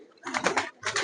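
A pigeon in a loft in Palakkad gives two short, close coos, the first longer and the second clipped.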